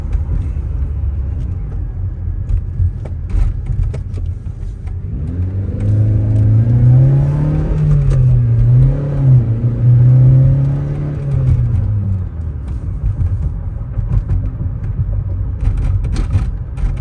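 A 1987 Toyota MR2 without the supercharger revs up while driving, its engine note climbing and wavering in a sustained, loud rise before settling back to a steady cruising rumble, with no talk.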